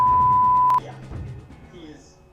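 Voicemail beep: a single clear sustained electronic tone lasting under a second, followed by a faint recorded voice prompt and low background talk.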